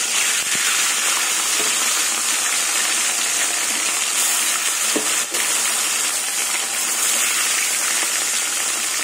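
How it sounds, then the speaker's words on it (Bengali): Fish frying in hot mustard oil in a pan gives a steady, loud, dense sizzle with a hissing, gushing texture that runs unbroken throughout, with no voices. "তেল গরম হয়ে গেছে, মাছগুলো তেলে ভেজে নেব।"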